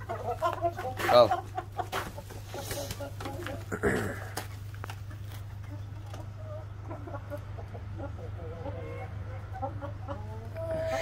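A rooster and hens cluck in a farmyard, with a few louder clucks early and softer ones later over a low steady hum, and someone talks quietly nearby.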